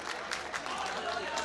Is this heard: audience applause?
yes